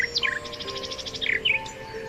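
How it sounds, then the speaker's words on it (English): Birdsong rings out clearly, with a rapid run of bright repeated chirps set among quick rising and falling whistled phrases over a faint steady background. "Keats imagines the birdsong echoing through time."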